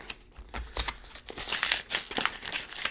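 Plastic packaging of a squishy rubber monster toy is torn open and crinkled up close, a series of irregular crackling rips and crumples, fairly loud against quiet surroundings.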